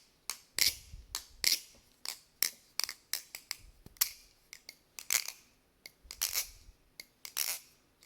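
Balisong butterfly knives, including an Obsidian S and a Jian, clatter through flipping rolls with tight tolerances and slight play, giving quick sharp metallic clicks in irregular bursts, close but fairly quiet with no talking.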